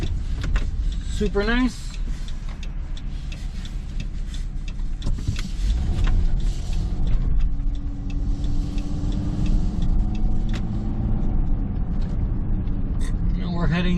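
A car driving on a road through downtown Sarnia in February, with a steady engine and tyre hum filling the cabin throughout and a few small clicks, while people talk inside.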